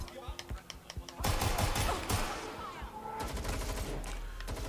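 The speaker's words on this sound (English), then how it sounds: "there's people with machine guns" Machine gun fire in Watch Dogs: Legion erupts after a second of scattered clicks and shots, a dense rattling burst of automatic gunfire that continues in rapid volleys, fairly loud, with other game sounds around it.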